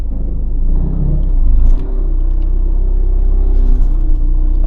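An MK3 Audi TT engine with new engine and transmission mounts idles in gear, a close, steady low rumble with slight shifts in tone.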